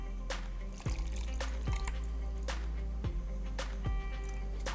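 Water trickles and drips into a blender jar while a Tamil fish curry paste is being made, with a steady liquid splash and several soft clunks along the way and no talking.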